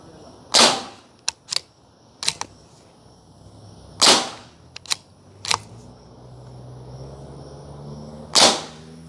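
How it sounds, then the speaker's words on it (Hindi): Three sharp air rifle shots from a Diana rifle, each a crisp snap followed by faint metallic clicks of handling, spaced a few seconds apart with quiet between. "इसमें हम सबसे ऊपर चलाएंगे डायना के पूरे 3 शॉट।"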